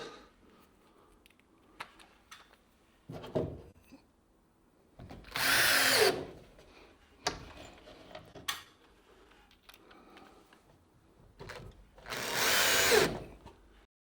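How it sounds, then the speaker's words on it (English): A power drill drives screws into a wooden noggin, with two long, loud whirring bursts and several shorter, quieter spurts and clicks in between, and no talking. "I'm putting 3 screws in on each side"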